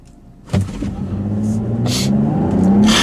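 A 2015 Volvo V60 T6 in sport mode pulls away hard from a standstill, its engine droning and climbing steadily in pitch up close, with a brief thump at the start and bursts of wind noise.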